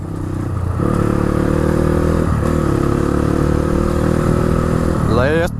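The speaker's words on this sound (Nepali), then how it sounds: "सात आठवटा डट बाइकले त यार एरिया थर्काउने रहेछ" Several dirt bikes on a muddy trail ride, engines droning steadily up close before one revs sharply upward near the end, with clattering mechanical noise throughout.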